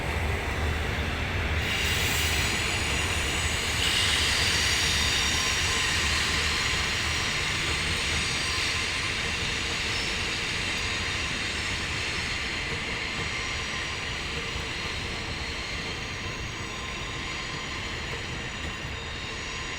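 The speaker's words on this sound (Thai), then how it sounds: "ดีเซล 4507 ลากรถโดยสารทดสอบจาก สถานีกลางกรุงเทพอภิวัตรเป็นที่เรียบร้อยแล้วนะครับ" Diesel locomotive 4507 hauling a test passenger train out of Bangkok's central station, a loud continuous rumble and rolling roar with steady rail noise, no voices.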